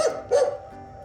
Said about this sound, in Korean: 여기도 멍멍이 있네